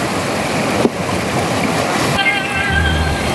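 Water rushes forcefully through a 5-inch pipe set at a stream's source, a steady, loud gushing roar with a brief knock near the start, heard up close and alone.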